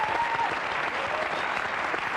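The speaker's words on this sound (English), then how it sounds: "that deserves a round of applause" Applause from the finale of the Survivor UK reality show fills the room, a dense, sustained round of clapping with a faint murmur of crowd beneath.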